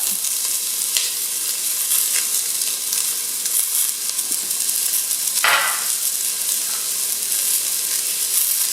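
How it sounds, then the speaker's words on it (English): Onions and garlic frying in a little olive oil in a preheated pan give a steady, close sizzling hiss with a brief surge of crackle partway through. No one speaks. "I've already heated the pan. And then we're going to put in the onions and the garlic."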